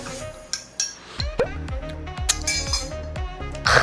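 Spoon clinking and scraping against a glass as cold brew concentrate is stirred into very cold milk, a quick run of bright metallic taps and clinks close by, with no talking.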